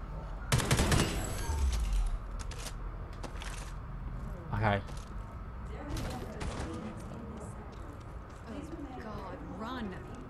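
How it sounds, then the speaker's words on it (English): Gunshots fired at a security camera in the video game Homefront: The Revolution, a burst of loud sharp cracks near the start and a few scattered shots afterward, with someone talking throughout. "let's just shoot this camera"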